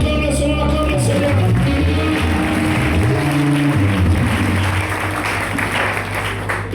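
A church congregation claps and cheers to acclaim the Lord during a sermon, a dense sustained wash of applause over steady organ or keyboard chords and a rumbling low hum.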